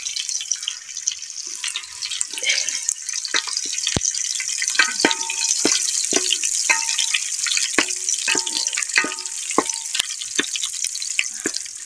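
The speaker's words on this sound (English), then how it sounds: "You fry until golden brown, my onions." Onions fry in a pan over a village cooking fire, a steady close sizzle and crackle with scattered pops and stirring clatter, going on without a break and with no talking.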